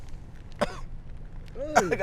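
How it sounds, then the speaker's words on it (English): A short cough or throat-clearing burst, then a second rougher one near the end, over low background rumble and faint voices. "Of course he gonna be coughing."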